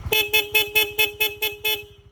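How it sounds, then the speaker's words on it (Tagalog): A Seger horn fitted to a Honda CB150X motorcycle honks in a rapid pulsing pattern, about eight loud, close, evenly spaced blasts with a sustained tone beneath them. "then switch, Seger horn"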